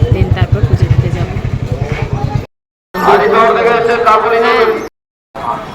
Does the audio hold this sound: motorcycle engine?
yes